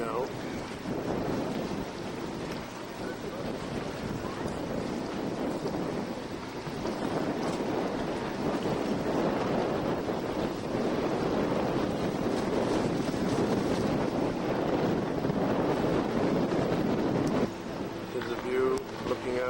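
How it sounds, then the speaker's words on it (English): Strong wind roars steadily across the microphone while standing on the USS Arizona Memorial at Pearl Harbor, Hawaii, with water and surf noise beneath; a voice speaks faintly under the gusts. "I don't know if you can hear me with the wind blowing."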